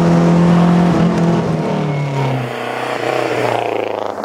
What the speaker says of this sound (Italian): Il sound, ragazzi, è veramente particolare, nonostante sia comunque un 4 cilindri, è proprio il suono del Delta.